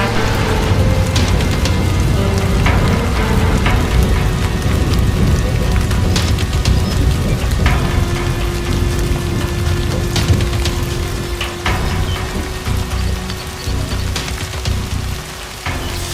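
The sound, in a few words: pelting rain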